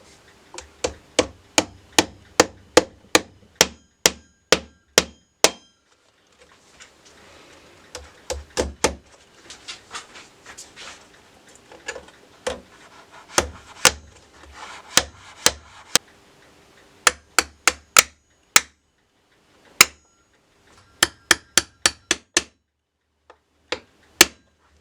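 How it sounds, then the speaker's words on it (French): Small nails being hammered into the wooden parts of a bull's-eye window during reassembly, heard as close, sharp, rapid bursts of taps with short pauses between runs and quieter handling in between. "maintenant, je vais y mettre des petits clous,"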